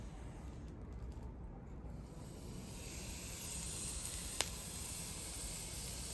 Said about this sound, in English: Want to hear that sizzle?